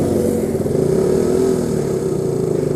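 A TVS Apache RC200 and a Suzuki Gixxer SF250 motorcycle ride on a road together, their engines droning loud and steady at close range with a slight rise and fall in pitch, and no talk over them.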